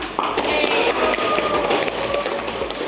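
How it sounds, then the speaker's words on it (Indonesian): A classroom of junior high students applauds a student group, a dense patter of many hands clapping together at an even level for a few seconds. "Kasih aplaus untuk kelompok 2."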